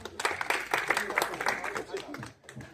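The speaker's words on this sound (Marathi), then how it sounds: "यांच्यासाठी पण टाळ्या वाजवा" A small group of villagers playing a snakes-and-ladders game clapping hands, a quick run of fairly close, moderately loud claps that thin out toward the end, with voices mixed in.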